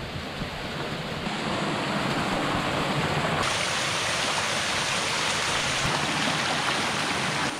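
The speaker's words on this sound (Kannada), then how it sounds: "ಮಳೆ ಸ್ಟಾರ್ಟ್ ಆಯಿತು." Steady, dense broadband hiss of rain falling, rising slightly and thickening after the first second, continuous with no voices.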